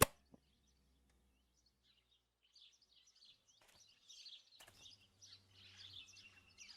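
Harsh calls from a flock of rooks in a video game chatter and squawk at moderate distance, building into a continuous noisy chorus after a quiet opening.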